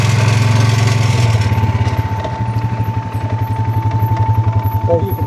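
A farm tractor's engine runs at a steady idle, a close, rhythmic low throb that pulses evenly throughout.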